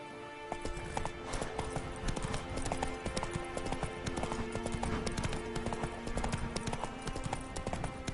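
Hooves of Roach, the horse in The Witcher 3: Wild Hunt, beat out a fast, even gallop close up, loud and continuous throughout with little else over it.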